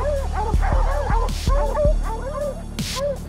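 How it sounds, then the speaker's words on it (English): Hunting dogs baying at a treed bobcat in brush, a close chorus of repeated yelping bays and whimpers overlapping in quick, uneven bursts. "The dogs bay the cat while I slide in under him."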